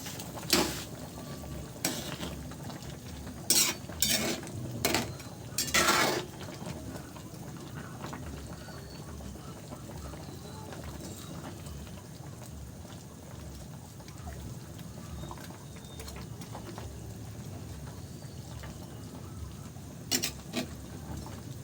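A pot of fish soup with miso bubbles and simmers steadily up close, with a few sharp pops and clicks over the continuous boiling hiss.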